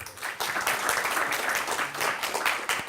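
An audience applauds guests at a Google for Startups tech event, a dense burst of clapping from a room full of people that carries on steadily throughout.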